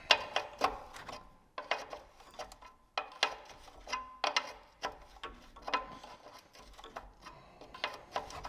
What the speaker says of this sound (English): Got a 14mm wrench in here. Pull the sensor out.